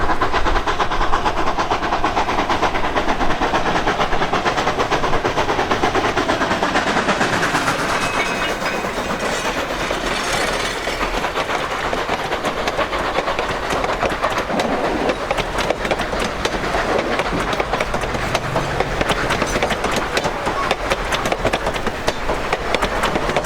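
A Durango and Silverton narrow gauge railroad train rolls along with continuous rumbling and rapid clickety-clack of wheels over rail joints, loud and sustained.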